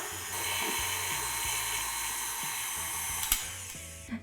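Electric mixer whirring steadily through pistachio honey sugar cookie dough, a continuous close motor drone with faint clicks of the beaters near the end.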